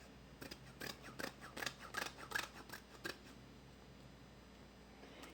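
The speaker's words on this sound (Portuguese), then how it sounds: "Vou cortar o excesso." Scissors snipping off excess material while making a lunch bag, a run of about a dozen quick close cuts in an uneven rhythm, then quiet room tone.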